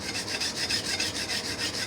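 A kitchen knife is drawn against the stone of a homemade guided sharpener in quick, even rasping strokes, about four per second, steady and close with no talk.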